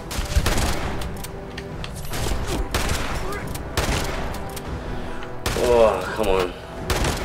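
Repeated heavy shotgun blasts in Fallout 76, loud booming shots spaced out across a tense cave fight, with a voice briefly speaking between them.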